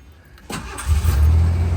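A 1989 Ford Bronco II Eddie Bauer with about 9,000 miles cranks for a split second, then catches and settles into a strong, steady idle close by.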